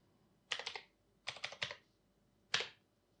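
Bursts of keystrokes on a computer keyboard while writing Python turtle code, three short clusters of quick clicks separated by pauses, close and fairly quiet with no talk.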